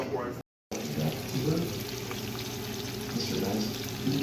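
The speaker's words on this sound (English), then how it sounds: "I'm gonna fill that up with 2 cups of water, bring that to a boil" Two cups of water pour into a pot for a homemade seafood broth, a continuous soft splashing stream heard faintly and closely, with a brief dropout near the start.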